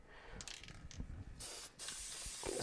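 Gasket coating sprayed from an aerosol can onto a head gasket for a 1997 Jeep TJ Wrangler 2.5-litre engine, heard as several short hissing bursts followed by a longer continuous spray, close and fairly loud, with no talking.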